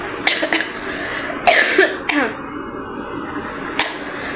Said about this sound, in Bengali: কাশি আর কমবে না আমার এটা।